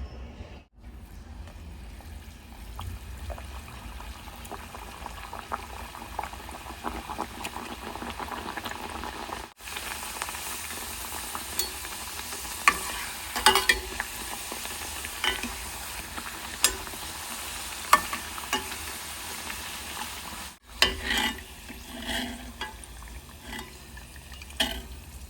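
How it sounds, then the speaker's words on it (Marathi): Sweet jaggery puris fry in hot oil with a steady, close bubbling sizzle that lasts throughout. Small pops and scattered clicks rise above it, and it stops briefly now and then. "तर अशाच पद्धतीने आपण सगळ्या पुऱ्या तळून घेणार आहोत."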